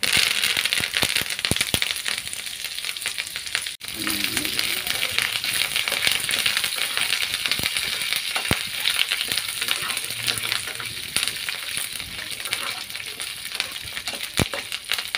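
Urad dal, coriander seeds and curry leaves roast in a little oil in a pan, giving a steady crackling sizzle with sharp pops throughout.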